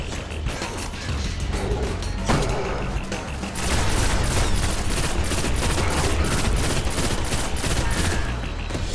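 Sustained gunfire and combat noise from the Destiny video game during the Winter's Run Nightfall strike against the Archon Priest, dense rapid shots and mechanical clatter that intensify partway through and stay loud without pause.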